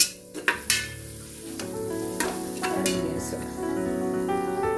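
Five kanthari chillies dropped into hot oil in a frying pan while making a home-style mixed vegetable biryani: a few sharp clinks, then a loud, close, continuous sizzle that swells and holds.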